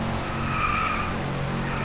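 A Koenigsegg Regera's tires skid and squeal during a drift in the racing game Driveclub, a sustained screech over the steady drone of the engine, with no talk.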